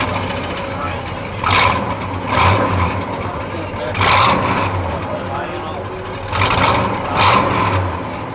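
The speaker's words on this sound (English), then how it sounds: "can we hear how the exhaust sounds? You want me to start it up?" A 1969 Chevy Chevelle SS engine rumbles close by, its deep exhaust swelling in several revving surges over a steady idle, with voices faintly underneath.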